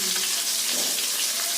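Fish sizzles in hot oil in a pan while cooking for a moong dal dish, a close, steady crackling fry with faint spattering and no talking.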